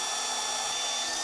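A high, whining power drill runs a supplied drill bit steadily for a moment during a 2018-2023 Ford Mustang GT supercharger install, loud and close, its shrill motor tone holding constant.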